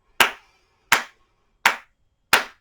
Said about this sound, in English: I'm going to clap my hands to 4